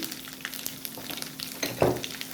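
Mustard seeds, cumin, urad dal and dried red chillies sizzle in hot oil for a tempering, a soft continuous crackle close by with a brief louder spatter as they are stirred.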